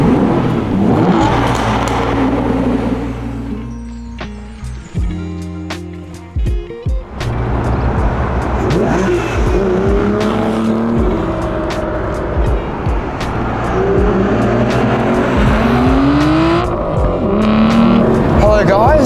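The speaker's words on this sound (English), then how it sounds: "we'll fire up that familiar V12 roar and burble that just can't be replicated" Aston Martin V12 Vantage, a 2010 manual car, its V12 engine starting and revving with a deep roar and burble, loud and close, steady throughout with a brief dip midway, while someone talks over it.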